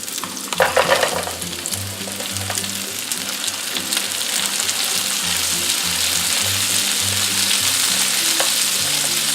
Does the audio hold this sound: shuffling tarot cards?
no